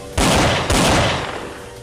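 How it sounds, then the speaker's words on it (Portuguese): Two loud gunshot blasts fired at a car tire in the Free Fire battle royale game, the second following about half a second after the first, each leaving a long fading echo. "Vou dar um tiro no pneu dele, ó."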